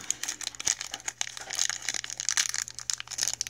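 Crinkly foil blind bags of Shopkins toys are squeezed and torn open close by, giving dense, irregular crackling and crunching bursts that run without pause.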